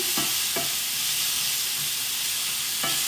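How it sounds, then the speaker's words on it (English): Mushrooms sauté over high heat in a pan, a steady loud sizzle and hiss broken by a few sharp scraping stirs. "I am cooking them on high heat because I'm sauteing them"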